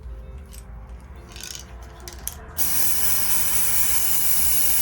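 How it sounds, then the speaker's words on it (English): Lace tint spray hisses onto a wig, starting abruptly partway through as a loud, steady, close aerosol hiss that holds to the end after a quieter stretch of faint handling sounds. "now I'm gonna just go in and I'm just gonna spray"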